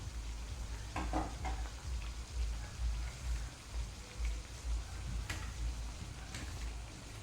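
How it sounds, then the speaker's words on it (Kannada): Jackfruit vada made with jaggery frying slowly in oil on a low flame, a soft crackling bubble like light rain, with occasional sharper clinks and stirring knocks, quiet and continuous. "ಸ್ಲೋ ಫ್ಲೇಮಲ್ಲಿ ಇದನ್ನು ಫ್ರೈ ಮಾಡಬೇಕು"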